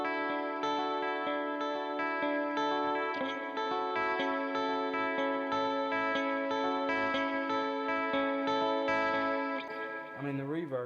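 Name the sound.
electric guitar with modulation and reverb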